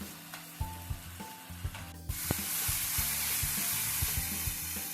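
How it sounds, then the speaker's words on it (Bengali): Chopped onions with whole garam masala go into hot mustard oil in a wok. A few clanks of the utensil come first, then a sudden loud, sustained sizzle of frying, with the stirring spoon scraping and tapping rhythmically against the pan. "একটা কড়াইতে কিছুটা তেল, প্রেফারেবলি সর্ষের তেল, গোটা গরম মশলা দিয়ে কেটে রাখা পেঁয়াজ দিয়ে ভালো করে ভেজে নিতে হবে"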